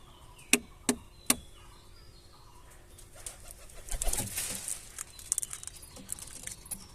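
A spoiled pigeon egg is cracked open with three sharp, quick taps in close succession, followed a few seconds later by a soft crunching, splitting sound of the shell breaking apart, close and quiet, with no talking.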